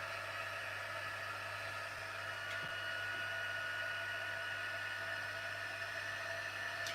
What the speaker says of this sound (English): I'm heating up my heat gun.